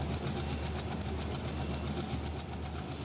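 An ALCO diesel locomotive in Trainz Simulator chugs steadily along, its engine giving a continuous, even throbbing beat with a faint high whine above, close and unbroken throughout.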